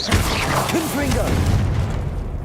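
A Confringo blasting spell goes off in the Hogwarts Legacy game, a dense booming burst with rumbling low end that fills the short moment, with a voice casting over it.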